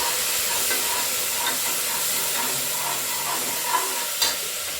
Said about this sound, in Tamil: இந்த எண்ணெயிலே தக்காளி நல்லா குக் ஆகட்டும்